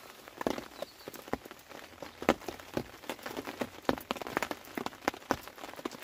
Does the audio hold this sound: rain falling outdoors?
yes